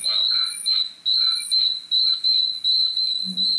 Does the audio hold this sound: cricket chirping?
yes